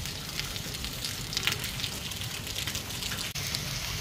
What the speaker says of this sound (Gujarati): ધીમી ધારે વરસાદ ચાલુ છે